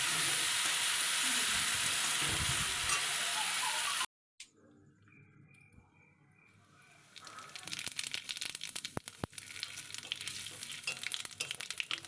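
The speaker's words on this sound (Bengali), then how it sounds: "এখন চিংড়ি মাছটাকে দিয়ে দিলাম চিংড়ি মাছটা আবার ভেজে নেব" Prawns frying in a pan, with a steady hiss that cuts out abruptly, then after a short quiet gap a crackling sizzle that builds and grows louder toward the end.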